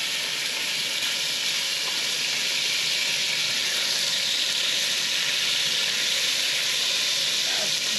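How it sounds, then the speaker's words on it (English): Beef browns in a very hot cast iron pan, giving a steady, loud, unbroken sizzle and hiss that holds the whole time without letting up. "So first thing we're going to do is get our meat browning."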